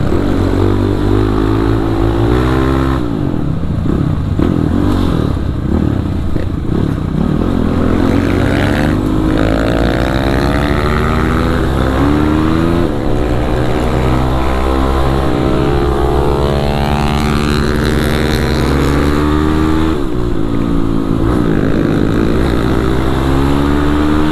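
A Kawasaki KLX 450 supermoto accelerates hard on a city street, its single-cylinder engine revving up and down loudly and close for the whole stretch, without speech.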